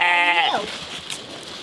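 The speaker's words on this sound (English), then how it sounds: "Oh, how are you, sheep?" A real sheep in a farm pen bleats once, loud and close, a wavering call that slides down and fades, followed by quieter rustling and faint farm background.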